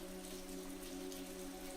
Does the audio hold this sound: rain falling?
yes